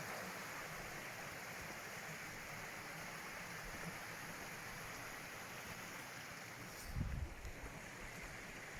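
The River Ashop in the Peak District, England, flows without pause, a constant broad roar close by, with a brief low thump near the end.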